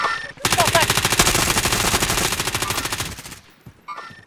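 Sustained rapid automatic gunfire in a squad shooter video game, a loud unbroken rattle of shots lasting about three seconds before it tapers off, with quieter shots and faint voices around it.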